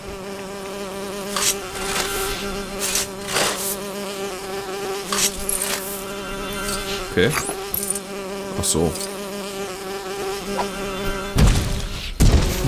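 Bees at a nest in the Lego Lord of the Rings video game, a steady droning hum of buzzing insects that continues throughout, overlaid with game thuds and brief bits of talk.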